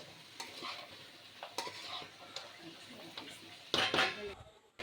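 Fish curry being stirred with masala in a pan: repeated scraping of a spoon against the pan over a soft sizzle, with occasional clinks, close and moderately loud, plus a brief louder clatter near the end.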